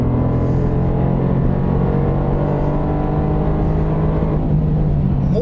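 A 2019 Mercedes-AMG GT R Pro accelerating on a race track, with a loud, close, continuous engine roar holding steady over several seconds.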